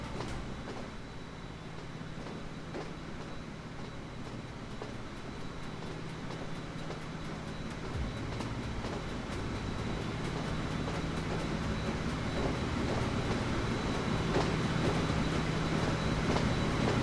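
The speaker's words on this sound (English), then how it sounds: "at this kind of speed like 147, you can already tell the train is going very fast" Train racing at high speed in the game Train Fever, a steady rolling rumble with rapid clicking wheel beats that grows slightly louder and fuller as it goes, with no voices.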